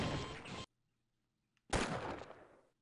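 Two loud, broadband gunshot blasts from the Half-Life video game, the first cutting off abruptly and the second after a gap of near silence, each with a decaying tail, heard alone without talk.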